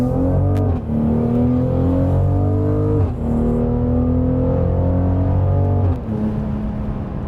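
A 2020 Mercedes-AMG GLC43 engine revs loudly and steadily, its throaty tone climbing in pitch, dipping briefly at gear changes, then rising again, close by with no talking.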